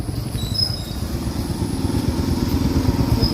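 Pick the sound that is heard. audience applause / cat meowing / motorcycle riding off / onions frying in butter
motorcycle riding off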